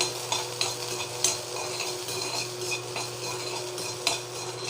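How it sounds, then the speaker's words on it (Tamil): Onions sautéing in a pan while ridge gourd peel chutney is prepared: a steady close sizzle with intermittent scrapes and clinks of a spoon stirring against the metal, and no voices. "இப்போது வானலியில் வெங்காயம் போட்டுட்டேன்."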